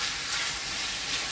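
Mutton chilli with vegetables frying over a high flame, a steady loud hiss and sizzle with no voices.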